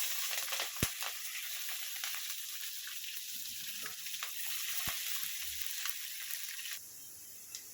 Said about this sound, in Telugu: దీంట్లో ఉల్లిపాయల పచ్చడి వేసేస్తాం.